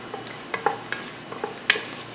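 Onion, sliced capsicum and three green chilies sautéing in a pan for chicken mandi, a gentle sizzle broken by several crisp clicks and scrapes from stirring, close and without any talk.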